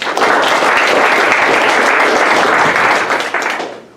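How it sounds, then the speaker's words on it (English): Audience applause at an evening growth engineering meetup in San Francisco, dense and steady for nearly four seconds before tapering off at the end. "And then one last round of applause for Rand."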